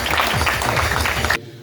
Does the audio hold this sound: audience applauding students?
yes